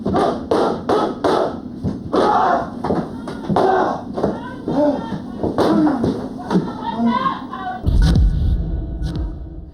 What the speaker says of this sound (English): When he hits the door now, it'll crack like that much.